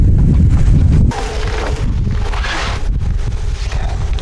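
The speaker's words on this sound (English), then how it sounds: "It's hard to do when it gets too windy" Gusty wind buffets the microphone with loud rumbling aboard a sailboat, easing slightly after the first second but continuing throughout, with no talking.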